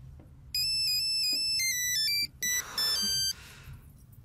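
A mobile phone ringtone plays loudly as a bright electronic melody, breaking off briefly and starting again, with no voices over it.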